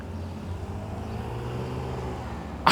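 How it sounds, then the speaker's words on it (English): Cars passing on a road, a faint low rumbling whoosh that swells gently, with a sudden brief noise burst at the end. "Oh, there's cars coming."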